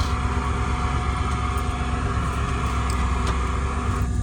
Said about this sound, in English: I properly warm up all my vehicles.